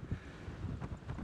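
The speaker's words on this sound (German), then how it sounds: "der Wind ist schon so ein kleiner Bastard" Gusty wind buffeting the microphone outdoors on the Croatian coast in the off-season, a continuous low rumble that swells in several rough bursts, loud and close, with no talking.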